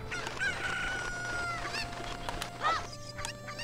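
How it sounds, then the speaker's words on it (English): Chicken clucking and a rooster crowing from the Zelda: Ocarina of Time video game, repeated squawky calls over a steady background game hum. "One chicken."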